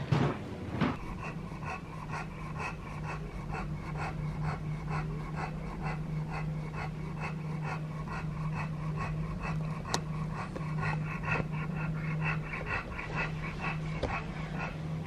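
A dog panting on a hot night in a flat, with quick, rhythmic breaths that are close and steady throughout.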